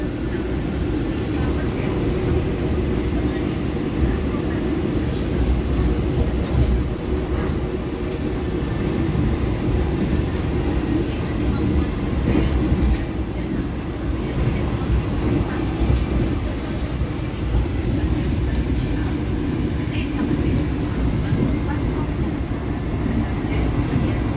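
A continuous heavy rumble of a long-distance train and a KRL commuter train running side by side on parallel rails, steady and moderately loud throughout, with voices faintly audible.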